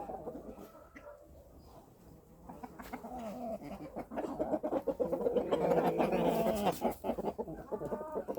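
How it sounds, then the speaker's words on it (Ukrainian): Farmyard poultry in a noisy mix, with a duck squabbling among chickens and a rooster, steady overlapping clucks and squawks that grow louder and busier toward the end. "та качка продовжує ще сваритися"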